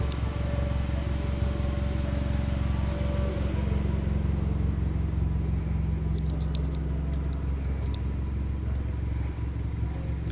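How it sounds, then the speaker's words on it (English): Steady low engine rumble and exhaust drone from a 2014 Volkswagen Polo GP 1.2 TSI Highline automatic fitted with an aftermarket exhaust, idling close by as a continuous, even hum with faint ticking higher up. "Note there is an aftermarket exhaust on this vehicle."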